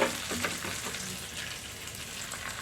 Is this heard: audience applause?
no